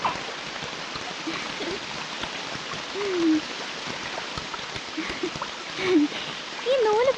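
Fine, thread-like rain falls in a steady hiss, with a voice speaking intermittently over it.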